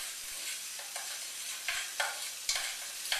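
Onions fry in oil and flour at the start of a gravy for rouladen. Soft, steady sizzling comes with a few irregular scraping stirs of the spoon, close and quiet, without talking.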